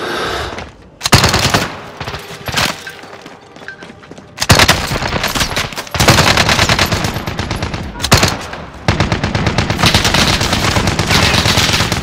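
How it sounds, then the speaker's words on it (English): Rapid automatic gunfire in Call of Duty: Modern Warfare, loud and close, with sustained bursts broken by short pauses and a few heavier booms. "Taking direct fire!"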